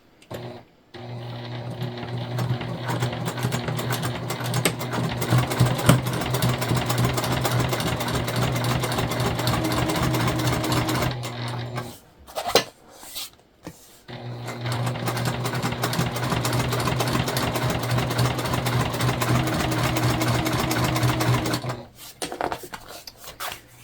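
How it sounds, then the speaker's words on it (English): A sewing machine topstitches a tote bag seam an eighth of an inch from the edge in two long, steady runs of rapid stitching, close-miked, separated by a short pause with fabric handling. "we're just doing a top stitch, which is 1/8 of an inch away from the edge here"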